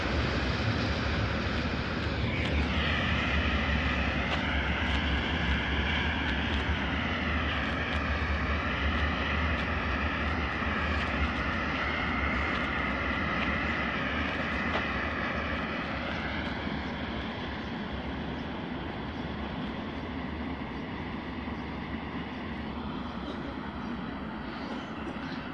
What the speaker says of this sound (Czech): Nákladní vlak opouští stanici Krupka Bohosudov.